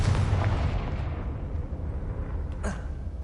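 The Confringo fire spell in Hogwarts Legacy lands as a loud, booming explosion that then rumbles and crackles away, with a brief sharp burst partway through.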